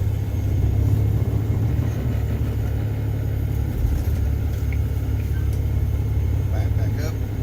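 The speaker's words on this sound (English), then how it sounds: "I'm going to pull forward 3 to 5 miles an hour and test my service brakes" From inside the cab, a truck's engine idles and rumbles steadily as it creeps forward slowly, a loud, constant low drone, with a voice talking over it.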